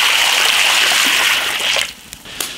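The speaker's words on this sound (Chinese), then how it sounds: "倒水，" Water pours steadily into an iron wok as vegetables are prepared for home cooking, a continuous rushing splash that cuts off near the end, followed by a couple of small clinks and drips.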